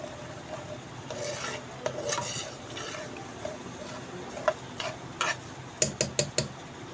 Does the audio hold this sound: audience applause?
no